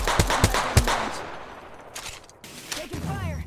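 Bursts of automatic gunfire in the Apex Legends video game, several quick rapid volleys early on, then sparser shots, with players talking over the action.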